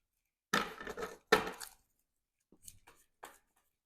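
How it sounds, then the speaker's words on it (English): Deck of game cards being shuffled in a solo Marvel card game: two loud riffling bursts close together, then a few fainter card taps and slides, with no talking. "And we shuffle up the encounter deck here."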